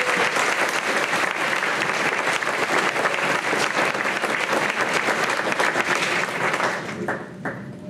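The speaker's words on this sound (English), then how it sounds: "So let's have a round of applause for" A school audience at an 8th grade awards ceremony gives teachers a loud, sustained round of applause, dense steady clapping that carries on for several seconds before thinning slightly at the end.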